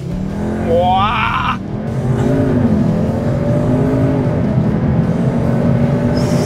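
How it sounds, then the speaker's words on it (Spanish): A Cupra Leon Sportstourer estate with 310 hp launches at full throttle from a brake-held start, its engine roaring loud and close as it revs and climbs through the gears, while a man exclaims over it. "una pequeña prueba de aceleración, pie al freno con el izquierdo y a la derecha, gas a fondo"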